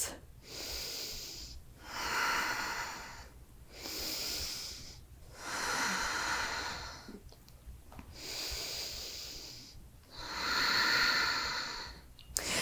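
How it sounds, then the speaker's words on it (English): Slow, deep breathing in a yoga pose, with about six long audible breaths alternating in and out, each lasting roughly two seconds, close and soft with a slightly nasal rush. "3 breaths."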